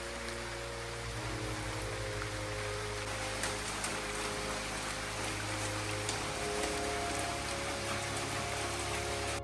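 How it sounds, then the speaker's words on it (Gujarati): Steady rain falling at a hot spring temple site, a dense, even patter on surfaces throughout, with a low mechanical hum running underneath. "વરસાદ પડતો છે"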